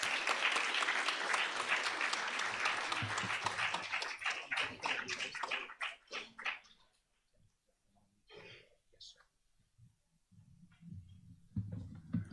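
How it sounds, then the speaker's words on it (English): A luncheon crowd at an awards event breaks into loud, full applause that holds for several seconds, thins into scattered claps, then dies away to quiet room noise with a few faint sounds. "Please give them a warm round of applause."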